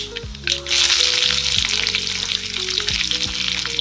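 Green chillies hit hot oil already popping with mustard seeds and cumin, bursting into a loud, steady sizzle that holds without a break, with light stirring scrapes mixed in, and no voices.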